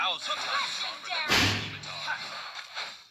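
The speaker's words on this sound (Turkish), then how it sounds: "Kapı sesi geldi özür dilerim." A door slams once in the background, a single sudden thud partway through, while a person keeps talking over the sound of a game.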